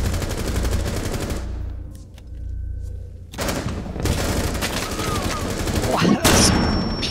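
Gunfire in Rainbow Six Siege during a Terrorist Hunt round, several loud bursts of automatic fire broken by short pauses, with sharp single reports and a thump near the end.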